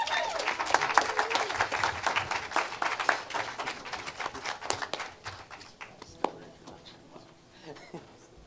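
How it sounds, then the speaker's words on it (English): An audience applauds a musician at a church service, dense clapping that swells and then thins out with a few scattered claps, while voices murmur in the crowd. "Give a warm round of applause for my nephew, Blake Sharette."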